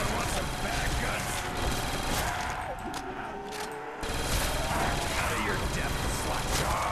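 An FG42 machine gun fired continuously in Call of Duty: World at War zombies mode, dense loud automatic fire nearly unbroken, with a short dip before resuming, mixed with game noise.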